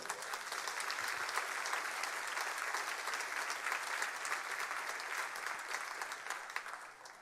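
A church congregation applauds in praise of the Lord, a steady wash of many hands clapping at even strength throughout, with no voices standing out above it.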